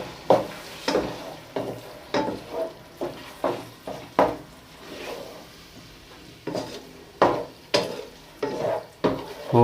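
Boiled spinach being mixed into fried masala in a pan, with repeated scraping stirs at a steady rhythm, close and fairly loud, over a low sizzle.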